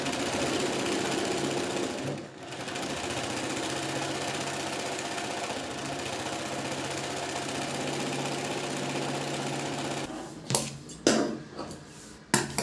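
A sewing machine stitches a princess-cut blouse lining in one long, steady whirring run of about ten seconds, then stops with a few short bursts and clicks.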